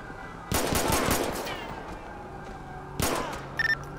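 Bursts of rapid gunfire in GTA 5 with the LSPDFR police mod, a long loud volley followed by a shorter burst a couple of seconds later, then a few quick high electronic beeps.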